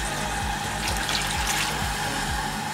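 A small cup of water poured into chicken korma in a cooking pot, a steady continuous splash and trickle with a low background rumble, close and alone without talk.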